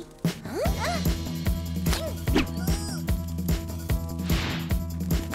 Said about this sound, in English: I know that weird bark anywhere.